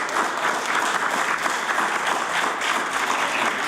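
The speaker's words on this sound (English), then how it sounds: "I'm a little bit surprised they're clapping" Legislators clap in the House of Assembly chamber, a steady, dense wave of applause sustained at even loudness throughout, with no voices standing out above it.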